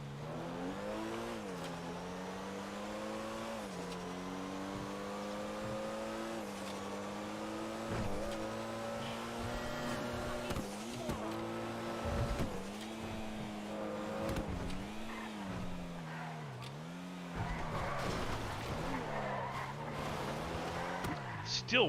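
Porsche sports car driven in a racing video game on a roleplay server, its engine droning and revving with rising and falling pitch through gear shifts, steady and close, with a voice talking over it.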